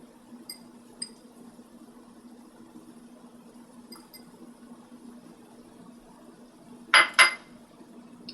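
A cooking pot lid lifts off during a pineapple shrimp stir-fry. Two quick metallic clinks sound close together over a faint, steady background hum.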